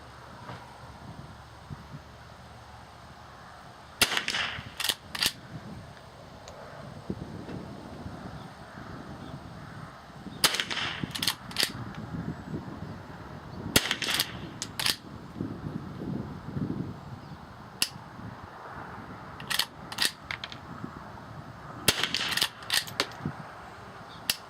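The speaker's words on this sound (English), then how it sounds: "So these shots here are all with 22 short." Shots from a rimfire rifle and revolver loaded with old .22 Short ammunition, some misfiring, heard as sharp cracks in small spaced clusters over an outdoor breeze, with long quiet gaps between volleys.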